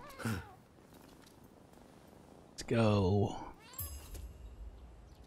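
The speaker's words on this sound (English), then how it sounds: "Wait, I heard a cat, man." A cat in a samurai-era action video game lets out a short, loud, strained meow up close, with faint bird-like chirps and brief game sounds around it and someone speaking briefly nearby.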